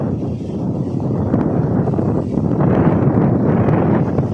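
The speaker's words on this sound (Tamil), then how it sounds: "அதுவும் கடுமையான காற்று அடிக்கும்" Strong wind roars steadily into the microphone, a dense rumbling gust noise that never lets up, with faint rustling mixed in.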